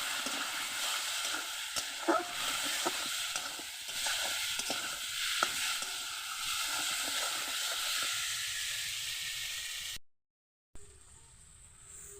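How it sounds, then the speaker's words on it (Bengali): Spiced fish frying in a pan with salt and turmeric while being stirred for a Bengali macher jhol, a steady close sizzle and hiss with scraping stir strokes, then a brief silence near the end. "এবার আমি ভালো করে কষিয়ে নেব"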